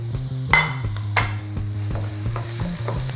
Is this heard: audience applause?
no